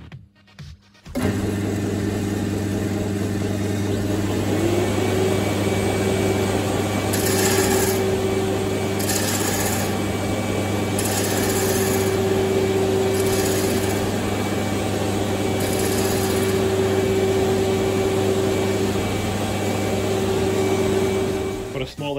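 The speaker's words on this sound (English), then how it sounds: "as the machine is turning the wood around, we push against gently, but we rotate the tool like this, 90 degrees" A wood lathe spins a piece of wood in a steady, close motor hum that lasts throughout, while a gouge pressed against the turning wood adds several brief, brighter scraping bursts at irregular intervals.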